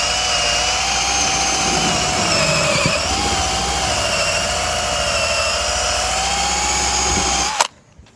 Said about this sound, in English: So thankfully this toffee wheel has managed to do the job.